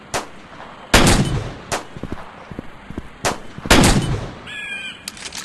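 Sharp gunshots from a western-style shooting video game, two loud blasts standing out among several fainter shots spread over a few seconds, with a short electronic tone near the end.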